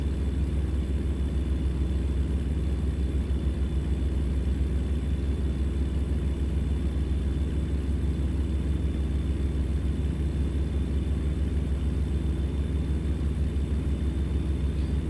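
A heavy-haul truck in American Truck Simulator drives at night, its engine a steady, low droning rumble that holds constant and even with no talking.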